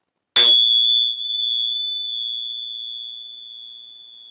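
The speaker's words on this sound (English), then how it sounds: "Bells will work just as well." A single bell struck once, giving a sharp onset and then a pure ringing tone that decays slowly over several seconds, close and clear with no other sound.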